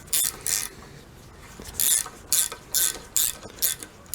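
A Snap-on RTD48 rethread tool cleans existing bolt threads, turned by a ratchet that gives close, crisp bursts of rapid clicking in about six short strokes with brief pauses between them.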